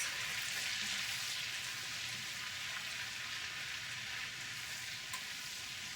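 Garlic and butter sizzle steadily in hot frying oil, a continuous bright crackling hiss with no talking.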